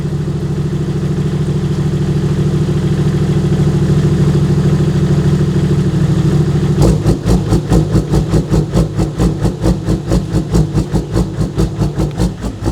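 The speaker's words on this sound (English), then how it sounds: "So we've got the lumpy idle and we've got a really gentle hard cut as well." A Toyota FJ Cruiser running an exhaust mode settles from a smooth steady idle into a lumpy, choppy idle, with rapid rhythmic pulses for the last several seconds, loud and close.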